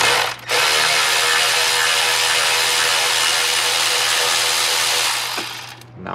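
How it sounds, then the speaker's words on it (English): A power tool, likely a ratchet or impact-style driver, whirs steadily and loudly for about five seconds during repair work on a supercharged Shelby GT350 with a sticky throttle, then winds down to a stop. "Just saves so much time using power tools."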